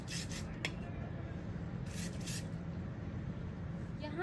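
Hairspray is sprayed onto bridal open curls in two short hissing bursts with a faint rasp between them, close and fairly soft, with light movement and handling sounds around them.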